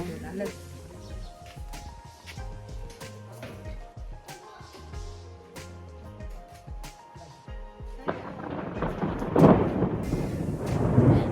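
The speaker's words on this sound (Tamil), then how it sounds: "இடி" Thunder rolls in the hill country around Hatton, Sri Lanka, a low, continuous rumble with scattered cracks, swelling into a louder rush of rain toward the end, with voices faintly in the background.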